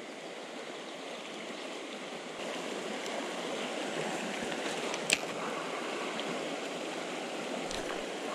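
A river flows steadily with an even, close-up rush of water and no talk, with a few faint clicks and knocks standing out from the wash.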